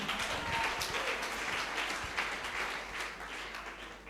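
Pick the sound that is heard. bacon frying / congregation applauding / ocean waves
congregation applauding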